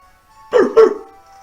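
A Furfrou cry from the Pokémon X video game: two short, bright synthesized yelps in quick succession, fairly loud and alone over a quiet game background.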